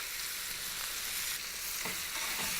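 A fish fillet frying in a pan gives a steady, close hiss of hot oil sizzling, bright and continuous with small crackles, alone with no talking.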